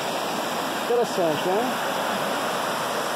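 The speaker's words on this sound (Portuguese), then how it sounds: "Na verdade é só uma corredeira, vejam só." Shallow river rapids at Cachoeira do Jequitibá near Machado, Minas Gerais, with low water, rush in a steady, broad hiss close by while someone speaks briefly over the flow.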